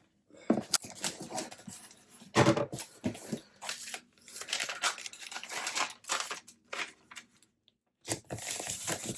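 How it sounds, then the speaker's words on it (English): A shipping box being packed and sealed with tape: close crinkling of packing material, rustling and short bursts of tape pulled off the roll, irregular handling noises with brief pauses, no speech. "Put it in this box and tape it up."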